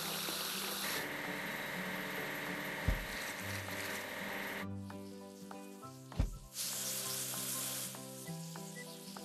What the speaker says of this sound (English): Let's wash the switcher locomotive.